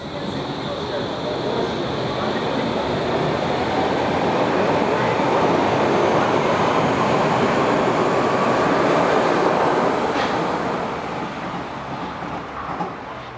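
A Berlin U-Bahn IK-series train on the U5 line rumbles steadily along the track, a continuous loud roar with faint rattling that eases off toward the end.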